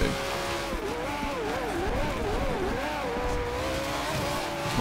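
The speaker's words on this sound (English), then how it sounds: "trying to get the perfect revs" Race car engines in the Forza Horizon 2 video game rev and drone steadily at a race start, the pitch wavering up and down as the throttle is feathered, loud and continuous with a dense engine rumble underneath.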